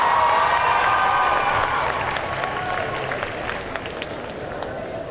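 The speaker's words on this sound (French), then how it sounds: "On peut les applaudir encore une fois." Audience applause and cheering at a cosplay contest at a Belgian convention, loud clapping with shouts that fades gradually, voices of the crowd mixed in.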